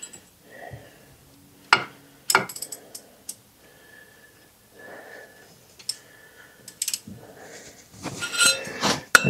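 Ratchet fitted with a pipe extension cracking loose a brake bolt on a Chevy Equinox: sharp metallic clicks and clanks in scattered bursts, with grunting breaths and a rattling flurry near the end.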